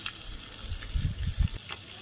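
Spice-coated pieces of chicken meat fry in bubbling oil, a soft continuous sizzle broken by a few low thumps and knocks as pieces are turned.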